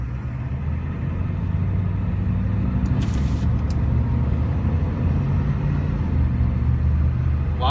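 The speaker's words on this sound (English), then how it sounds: "Put the foot on the brake, idle goes down, put it into gear. I'll take you down the road here." A 1993 Ford E-350 Super Duty ambulance with a 7.3L turbo diesel drives along a road, giving a steady, loud low rumble of engine and road noise with a short hiss partway through.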